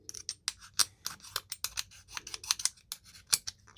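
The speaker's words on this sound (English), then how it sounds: "You can just hear it scratching that." A knife tip dragged and scratched across an aluminum surface, giving a series of short, close, dry scraping strokes in an uneven rhythm with no talking.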